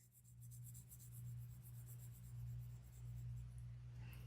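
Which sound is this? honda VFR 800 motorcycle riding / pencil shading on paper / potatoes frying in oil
pencil shading on paper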